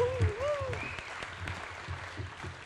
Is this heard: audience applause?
yes